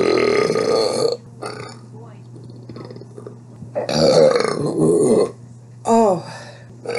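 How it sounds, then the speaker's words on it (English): Man belching loudly several times in a row, long rumbling burps at close range separated by short pauses, with no talk between them. "all of my shots are nothing but my belches"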